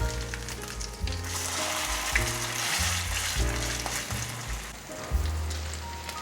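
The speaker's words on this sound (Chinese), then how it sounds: "锅内放入适量的油，把油铺平均点，油也微热了，把素排放进来煎。" Vegan patties fry in warm oil in a pan with a loud, close, steady crackling sizzle that runs throughout, while background music plays underneath.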